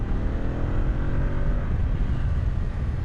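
A Yamaha Tracer 7 motorcycle engine pulls out of a slow hairpin, its steady drone building smoothly and evenly in pitch, loud and close with no talk over it.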